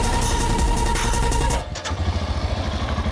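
A 2022 Royal Enfield Scram 411 motorcycle engine cranks with a clattering whir, then catches and settles into a steady, rhythmic idle thump, close and loud.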